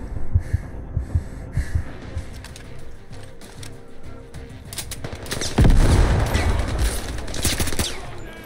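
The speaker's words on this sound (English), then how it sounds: "Who's shooting me?" Gunfire in the VR shooter Zero Caliber, scattered single shots early on, then a louder cluster of rapid bursts near the end, with a gasp and heavy breathing in between.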